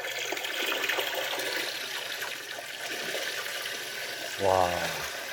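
A Reef Factory aquarium base pump rated up to 95 watts runs submerged, producing a continuous rushing, churning water sound, close and moderately loud, with a brief voice near the end.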